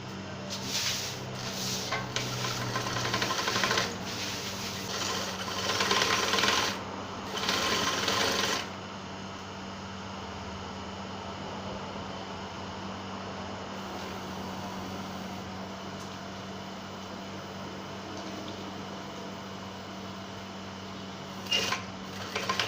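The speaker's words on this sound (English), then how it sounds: "Now use the sewing machine" An electric sewing machine stitches piping on a senator top, running in quick loud bursts during the first few seconds, then giving way to a softer steady hum with occasional brief clicks.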